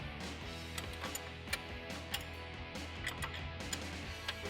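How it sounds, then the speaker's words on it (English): An 18mm wrench loosening the upper ball joint nut on a 2004-2019 Ford F150 front suspension, producing a steady series of faint metallic ticks and clicks in a quiet rhythm, with no talking. "Now I'm using an 18mm wrench to loosen up my upper ball joint."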